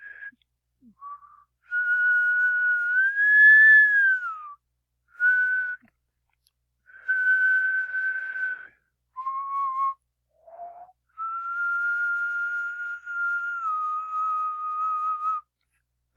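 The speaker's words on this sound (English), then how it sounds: "a whistle is a fairly clean sine wave" A person whistles a clean, steady tune in separate phrases, with held notes and gentle pitch slides, clear and close with short pauses between.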